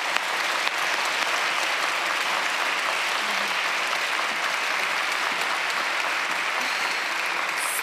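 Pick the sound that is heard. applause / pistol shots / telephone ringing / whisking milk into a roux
applause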